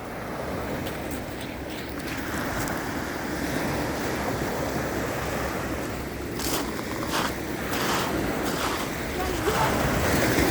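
Rough, choppy sea waves washing onto a beach in a continuous loud wash, with wind buffeting the microphone and a few brief bursts of noise near the end.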